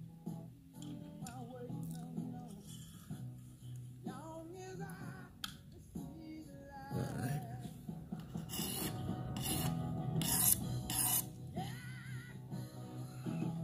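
A kitchen knife is drawn across a coarse 140 grit sharpening stone in a series of quiet, rasping strokes, sparse at first and then grouped into several sharper scrapes toward the end, with no voices.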